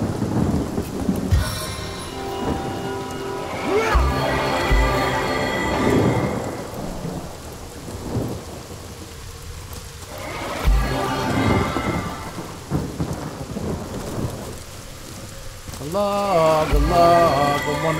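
Rain pours steadily in a Divinity: Original Sin game scene while rolling thunder crashes several times, loud and near, with a voice talking over parts of the storm.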